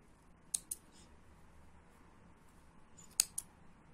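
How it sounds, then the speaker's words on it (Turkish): Scissors snip thread during needle lace work, with two crisp paired snips early on and two more near the end, close and clear against a quiet background. "İlk baştakini de kesiyorum ipimi"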